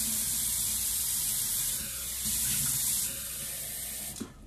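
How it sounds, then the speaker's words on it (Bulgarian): Water runs steadily into a blender jar for protein shake prep, a continuous close splashing stream that ends with a brief clatter near the end. "сипвам точно толкова вода в блендера"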